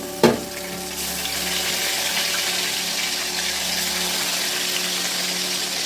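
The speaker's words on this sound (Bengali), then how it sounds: "আর এই তিনটে আছে আর এই তিনটে ভাজবো" Pangas fish pieces fry in hot oil with a steady, close hiss of sizzling that runs unbroken after a brief clatter at the start, with no voices.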